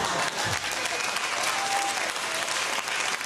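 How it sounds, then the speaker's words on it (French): A stand-up comedy crowd breaks into sustained applause, dense continuous clapping from a full room with some cheering mixed in. "Applaudissez si vous pensez que c'est de la bullshit."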